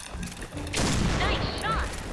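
A burst of gunfire erupts in the shooting game PointBlank, sharp and loud, layered under excited talk from players.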